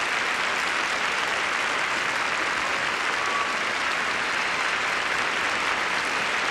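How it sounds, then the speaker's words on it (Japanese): A large arena crowd applauds and cheers at the 2006 Medalists on Ice figure skating exhibition, a dense, continuous roar of clapping that stays loud and steady from start to finish. "鳴り止むことのないこの拍手歓声に包まれて、"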